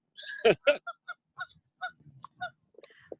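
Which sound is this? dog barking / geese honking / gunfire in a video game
geese honking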